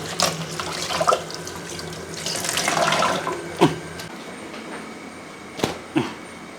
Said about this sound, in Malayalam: നല്ലൊരു കോട്ടൻ തുണി എടുക്കുക അതൊന്ന് നനച്ചെടുക്കണം നല്ലപോലെ കഴുകി എടുത്തിട്ട് നനച്ചെടുക്കുക